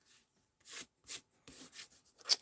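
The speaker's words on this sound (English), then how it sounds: "What's the eraser that removes ink spots? It's the sand eraser." A sand eraser rubbed on card to lift ink spots gives several short, quiet scratchy strokes in an irregular rhythm, close up with silence between.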